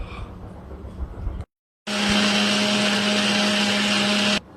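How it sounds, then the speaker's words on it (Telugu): A mixer grinder jar blends bottle gourd pieces with green chillies for dosa batter: a short whirring burst, a brief pause, then a loud, steady grinding roar that cuts off abruptly. "అందులో కొన్ని పచ్చిమిర్చి వేసి మిక్సీ జార్లో మిక్సీ పట్టుకోవాలి"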